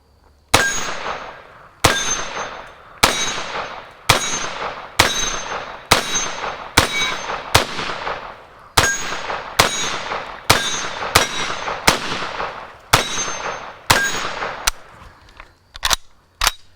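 A Fulton Armory M1 carbine firing Armscor ammo, about fifteen loud shots at a steady unhurried pace, each a sharp crack with a brief ringing tail, the last few shots closer together, with no talk.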